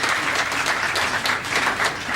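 An audience at a World Consumer Day event applauds a minister after his presentation, with brisk, dense clapping that fills the whole moment at a steady, fairly loud level.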